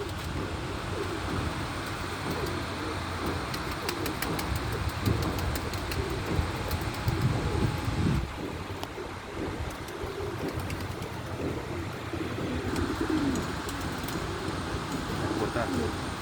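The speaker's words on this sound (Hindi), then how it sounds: "लो ये हमारा खोता कबूतर है" Pigeons coo softly in the background while people talk nearby, with a faint outdoor wind noise throughout.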